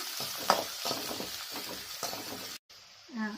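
Shallots and curry leaves sauté in sesame oil, with a steady sizzle and rhythmic scraping of a spoon against the pan, brief clinks, and a short pause near the end.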